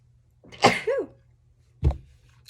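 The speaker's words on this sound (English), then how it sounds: "I'm probably going to sneeze." A single sharp sneeze with a breathy intake and voiced burst, followed about a second later by a shorter, fainter second sneeze-like huff.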